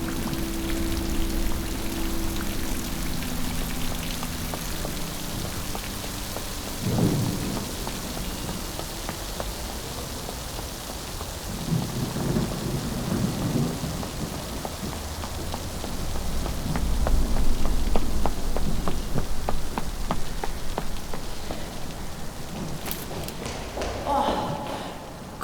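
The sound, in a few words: thunderstorm with rain in a shopping arcade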